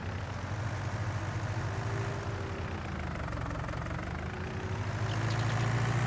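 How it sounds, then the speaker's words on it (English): Tractor engine idling in a West Coast USA farming video game, a steady low rumble that runs throughout at an even level and swells slightly near the end. "get your tractor out"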